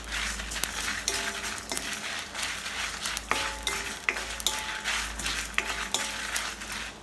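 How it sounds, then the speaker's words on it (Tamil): Ingredients sautéed in a pan, with a spatula stirring in a repeated rhythm of scrapes and metallic clinks over a low sizzle and a steady low hum, close and clear, without speech. "இப்போ ஒரு 2 நிமிஷம் வதக்கியாச்சு."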